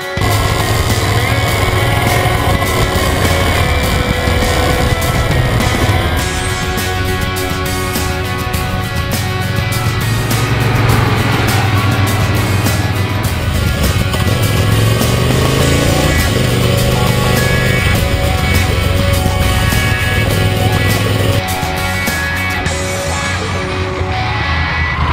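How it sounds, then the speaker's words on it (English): A Triumph Thunderbird Storm motorcycle being ridden, its engine a loud, steady, throaty drone with wind rush that holds for the whole stretch, shifting slightly in pitch as the bike pulls along. "I like this bike so much, I just want to get back out on it and go riding."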